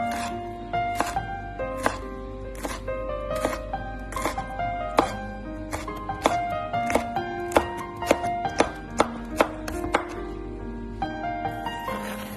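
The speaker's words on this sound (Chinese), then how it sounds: "切好之后再改刀将红椒切碎。" A knife finely chopping red pepper on a cutting board, crisp close taps in quick uneven bursts that grow denser toward the end, with a faint background hum.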